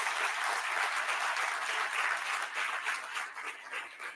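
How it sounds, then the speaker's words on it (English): A room full of people applauds the event staff at a city State of the City address: dense, continuous clapping blends into an even roar that holds for several seconds, then thins a little near the end. "Give them a big round of applause for the event staff here."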